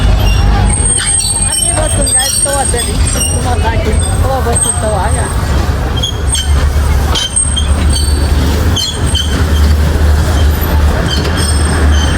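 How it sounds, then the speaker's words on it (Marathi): A train rolls past on the railway near Matheran, a loud continuous rumble with rattling wagons and occasional wheel squeal throughout, while people talk over it. "ट्रेन गई"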